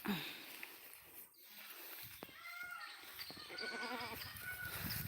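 Young goat kid bleating in a garden, several wavering bleats in the second half over outdoor background noise, fairly close.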